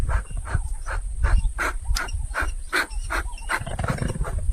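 A furious mother honey badger growling, a rapid series of harsh, snarling grunts and rasps, loud and close, repeating about twice a second.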